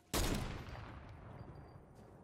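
A sniper rifle fires once in a video game, a sudden loud close crack followed by a long booming decay that trails away over a couple of seconds.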